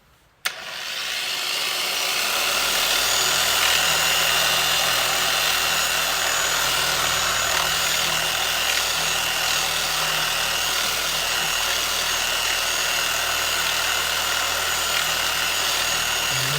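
A power sander switches on abruptly and runs at a loud, steady whine against a curb-damaged aluminum Mustang wheel, continuing unbroken without any talking.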